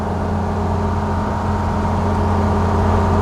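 A restored 1935 Horch 830 BK running cool at cruising speed gives off a steady, continuous low engine drone with a smooth, even hum and no voices over it.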